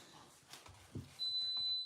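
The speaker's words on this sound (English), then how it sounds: "Oh, fire alarm." A smoke or fire alarm in a home kitchen gives a single sustained high-pitched electronic beep lasting under a second, fairly clear against quiet room noise, with no talking.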